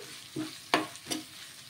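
Curry leaves stirred into a leftover rice mixture in a hot pan: three quick scraping strokes over a soft sizzle, each a short burst, close by.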